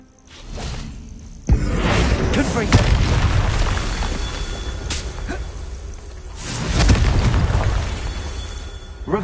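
A Confringo blasting curse going off in a video game, heavy booming explosions with whooshing bursts, loud and close, one blast near the start and another later, separated by a rumbling tail.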